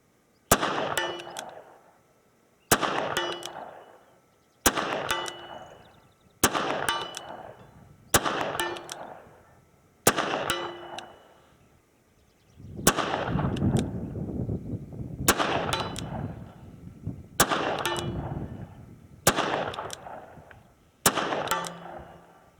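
A 1979 Colt Python revolver fired single action with .38 Special rounds outdoors, about eleven sharp, loud reports spaced roughly two seconds apart, each ringing out and fading before the next.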